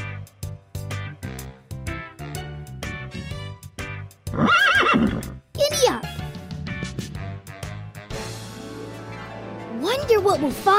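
A horse in a children's animated game whinnies loudly several times, with clip-clopping hooves and a cheerful voice talking in between.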